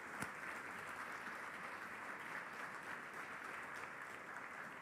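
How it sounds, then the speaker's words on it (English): Audience applause at a Google for India technology event, a sustained broad roar of many hands clapping in a large hall, even and continuous throughout. "Let's give them a big round of applause."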